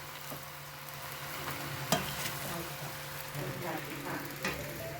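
Rice cakes with vegetables and shrimp sizzle softly in a pan while being stirred, a low continuous frying hiss with occasional faint scrapes and one sharper knock.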